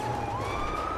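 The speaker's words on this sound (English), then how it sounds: "And the siren's still running." A police car siren wails steadily in the FivePD video game, a continuous rising electronic tone that stays loud over a low engine rumble, with no speech.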